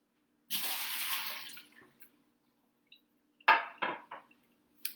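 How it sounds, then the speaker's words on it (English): Water is poured out of a dish in a brief splashing stream, followed after a pause by a few separate sloshes and drips, close and fairly quiet. "while I empty out this dish"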